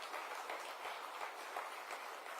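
Sustained applause from an audience at a provincial investment conference in Johannesburg, a steady dense patter of many hands clapping at moderate distance, with no voices over it.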